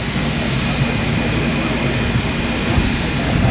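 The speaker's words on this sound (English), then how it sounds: "one of Jackson's similar karts with a Briggs on it." Vintage racing kart with a Briggs engine running steadily at a show in Norway, a loud continuous broadband drone with a low engine rumble, no pauses or talk.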